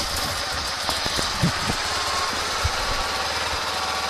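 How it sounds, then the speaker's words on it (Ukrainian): A small warmed-up engine with a K-37 carburetor idles steadily with a rough, putting rumble, occasional knocks and thumps audible over the constant running noise. "зараз запустимо прогрітий двигун."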